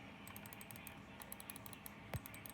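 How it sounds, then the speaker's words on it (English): A Logitech Pebble computer mouse gives soft, quiet clicks in a brisk irregular series, close but faint against a low background hiss, with one slightly louder thump near the end. "You hear it clicking."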